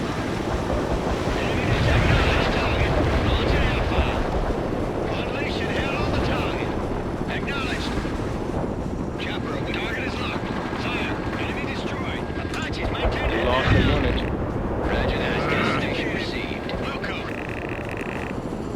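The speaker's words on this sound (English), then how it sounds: "several enemy helicopters moving toward Liberty Island. Wipe them out." Several helicopters in the PC strategy game World in Conflict, a dense roaring, wind-like rotor wash mixed with battle noise, steady and loud, under radio voices talking.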